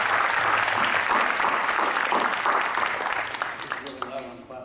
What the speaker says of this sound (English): John, please stand for a round of applause.